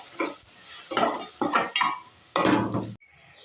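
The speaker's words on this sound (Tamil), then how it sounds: "இப்போ அரைச்சி வச்ச அந்த பேஸ்ட்டை சேர்த்துக்கலாம். நல்லா கலக்கி விட்டுக்கலாம்." A spoon scrapes and stirs a thick ground onion paste in a pan in several short, uneven strokes, close and clattery, with a faint sizzle beneath.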